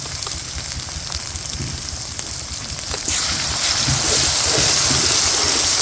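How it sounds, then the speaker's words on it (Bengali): Garlic and ginger paste frying in oil over browned onions while cooking chicken tehari gives a steady, close hiss and sizzle that grows louder and denser partway through, with no voices. "মিশ্রণ করে সুন্দর করে তেলে ভেজে নিচ্ছি"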